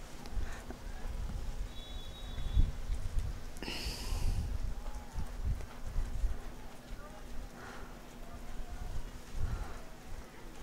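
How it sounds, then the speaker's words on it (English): A powerful dressage horse in extended trot at a Grand Prix competition, hooves clip-clopping in a steady rhythm on the arena surface in wet weather, heard moderately close under a commentator's voice. "He's a powerful, free-moving horse. A good extended trot."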